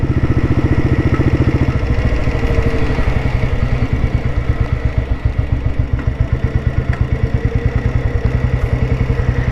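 A 1987 Royal Enfield Bullet with a full-core silencer runs smoothly at a steady idle, its single-cylinder exhaust thumping in an even, rapid beat, loud and close throughout with no voices.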